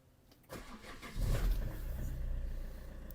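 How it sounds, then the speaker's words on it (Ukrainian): Cold start of a 2012 Peugeot Expert van with about 240,000 km: a short starter crank, then the engine catches and settles into a steady, close, fairly loud idle. "Ми заводимо її на холодну, не прогрівали перед заводочкою."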